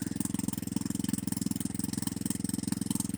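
Motorcycle engine with an exhaust leak idles steadily close by, giving a fast, even chuffing pulse with no pauses or talk for about three seconds.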